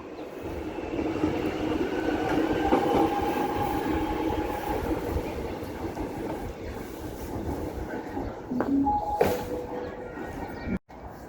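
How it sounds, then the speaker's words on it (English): A train rumbles into Arden Station with a steady roar, squealing brakes and rail clatter, slowing as it pulls into the platform; a sharp click near the end. "Alright, so this is our train."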